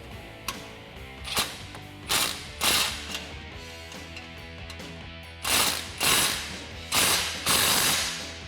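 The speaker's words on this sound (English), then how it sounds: "And now we can tighten down our clamp with a 13mm socket." A ratchet with a 13mm socket tightens an exhaust clamp while fitting a performance muffler on a 2019-2022 RAM 1500, giving a series of close, sharp clicking bursts in repeated strokes with short pauses between.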